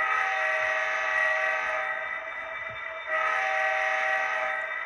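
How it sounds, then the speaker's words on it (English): An SD60M diesel locomotive horn and whistle from a video game sound as a loud sustained chord, briefly dipping and then resuming at full strength. "Alright, here's the horn and whistle."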